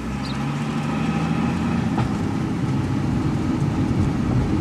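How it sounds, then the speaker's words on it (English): Drift car with a locked, welded-style differential driving slow laps, giving a steady low mechanical drone and grinding rumble with engine noise throughout, fairly loud and continuous with no talking. "That noise is the differential"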